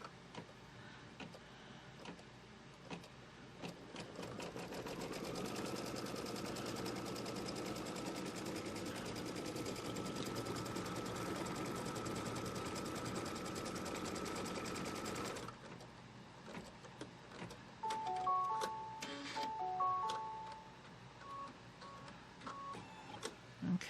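A domestic sewing machine tacks down quilt fabric in a rapid, steady mechanical whirr of stitching for about ten seconds, then stops, followed by a few clicks and short electronic beeps.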